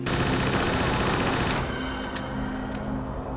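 Imported Combat Evolved assault rifle firing on a modded Halo 2 map: a dense, rapid automatic burst that roars loudly for about a second and a half, then cuts off into fading echoes and a couple of faint stray shots.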